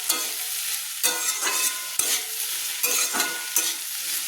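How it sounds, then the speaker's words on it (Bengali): Chopped tomatoes and vegetables sizzle loudly in a pan, stirred with repeated scraping strokes and utensil knocks that come roughly every half second to second over constant frying hiss. "দিয়ে ভালো করে আমি কিন্তু সবজিগুলোর সঙ্গে আমি নেড়ে নিচ্ছি।"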